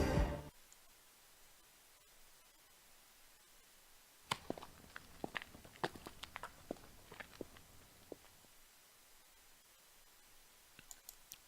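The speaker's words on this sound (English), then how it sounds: "I heard footsteps behind me." Footsteps in the visual novel Steins;Gate 0: a quiet run of light clicking steps, irregular and close, starting after several seconds of near silence and fading away toward the end.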